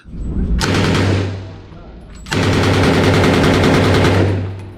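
An MP40 submachine gun fires two long, sustained bursts of rapid automatic shots, loud and close, with a short pause between them.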